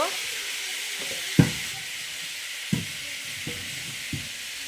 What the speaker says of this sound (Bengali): এখানে বোন আলু ভাজা করতেছে।